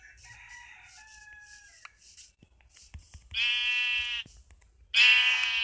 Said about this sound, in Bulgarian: Овце!